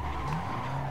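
A race car skids in the Assetto Corsa racing game, a sustained tire screech over engine drone lasting about a second, loud and close.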